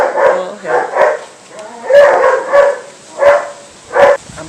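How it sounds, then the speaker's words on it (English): A neighbor's dogs bark outdoors, loud and fairly close: about six sharp barks in uneven bursts, some doubled, with short gaps between them. "talk about the neighbor's dogs"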